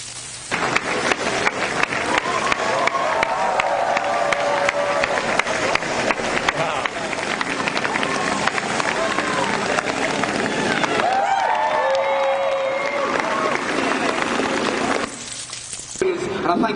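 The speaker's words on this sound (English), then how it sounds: "Okay, guys, get ready to clap" An audience at a SIGGRAPH 2010 presentation claps in sustained, dense applause lasting many seconds, with a few whoops rising over it before it fades.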